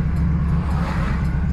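A 1969 Chevrolet Camaro Z28 manoeuvres nearby, its engine giving a brief, steady low rumble with a slight rise in intensity and no voices.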